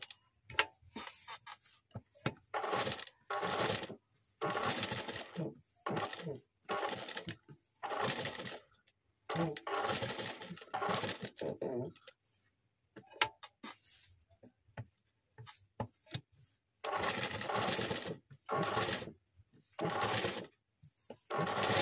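A sewing machine stitches a back design on a blouse in repeated short bursts with brief pauses between runs, close and fairly loud, with no talking.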